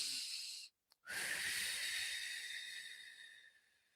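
A person does a deep breathing exercise, taking a long breathy hiss of air, then pausing briefly before a second long, forceful breath that slowly fades, close up with no talking.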